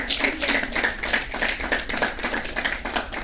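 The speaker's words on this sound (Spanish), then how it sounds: "Dale un aplauso al Rey de Reyes y Señor de Señores." A church congregation clapping in a steady, fast rhythm, loud and close, many hands together with no talk over it.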